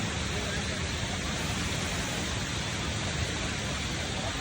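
Kroeng Krawia waterfall in Kanchanaburi, a low cascade about five metres high right beside a road, gives a steady, dense roar of rushing water that holds unbroken and fairly loud throughout.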